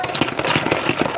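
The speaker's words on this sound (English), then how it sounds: "This is just a OXO spinner. Put that cabbage right in there," A plastic OXO salad spinner whirs steadily while spinning shredded cabbage, a close, continuous rattling rumble.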